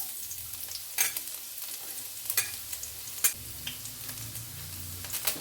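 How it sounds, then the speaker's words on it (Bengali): Chopped garlic frying in hot olive oil for spaghetti, a soft steady sizzle with several scraping clinks of a spoon stirring in the pan, close and fairly quiet, with no talk. "এর মধ্যে দিয়ে দিচ্ছি রসুন কুচি"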